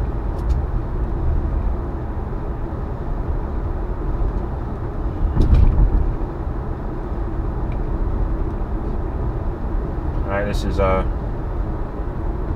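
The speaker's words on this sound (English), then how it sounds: "We're just driving straight ahead." A Tesla on a test drive along a divided major roadway gives a steady interior road and engine-free rolling hum, with a brief louder whoosh midway and someone talking over it.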